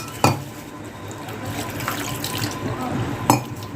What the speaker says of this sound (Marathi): यामध्ये आता पाणी घालूया आपण.